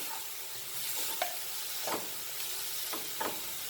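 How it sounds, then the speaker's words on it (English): Masala for Goan beef fry frying in a pan, with a continuous soft sizzle and hiss and a few scraping strokes of a spoon, close, no voices. "Let the masala be fried nicely."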